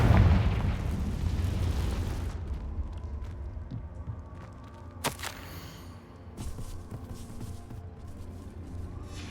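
A Confringo explosion spell in Hogwarts Legacy bursts as a loud, deep blast that rolls into a fading rumble, followed by scattered sharp crackles and debris-like clicks in a quieter stretch.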